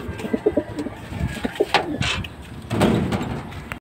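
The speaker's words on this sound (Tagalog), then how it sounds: "Tapos yung young bird niya, eto." A young bird, likely a pigeon or dove chick, sits near its parents' nest and gives a few soft cooing calls. Short scuffling sounds come close by, while a faint human voice and a bump are heard in the background.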